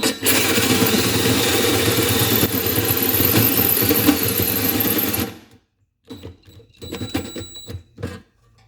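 A drill bores into an engine valve cover, producing a dense, loud grinding whir for about five seconds that cuts off abruptly, followed by a few short bursts and clicks.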